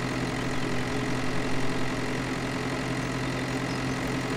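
A Lamborghini tractor in Farming Simulator 2013 hauls wagons, its engine a steady, loud, low drone that holds constant without revving, and no one speaks.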